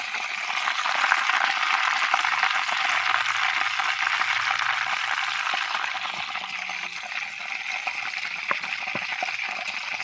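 Chicken pieces for biryani frying in hot oil, a steady dense sizzle with fine crackling pops holding at an even level throughout, close and continuous with no talking.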